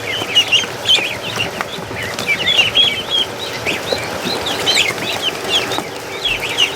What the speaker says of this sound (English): Duck herding in the barn.